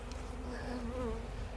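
Dense, steady buzzing of a honey bee swarm in a bush, a continuous drone close by with faint higher whines drifting over it.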